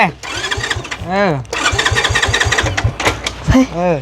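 New motorcycle starting up: a rapid starter whine that catches into a revving engine, cuts out, restarts several times and revs again, loud and close, with people talking over it.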